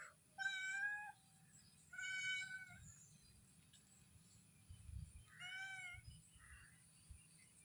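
Kittens meowing in three or four clear, close bursts of high, plaintive cries separated by short pauses, over a faint low background rumble.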